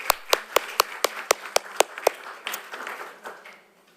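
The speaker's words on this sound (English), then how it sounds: "we can give Pia a final round of applause." Short round of audience applause at a university event on urban climate justice, a handful of distinct, fairly loud claps at a steady rhythm that loosen and fade out toward the end.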